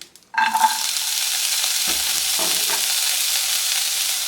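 Ginger and garlic hit a hot pan with a sudden burst of sizzling, then a loud steady fry continues, broken by a couple of brief stirring knocks, with no talking.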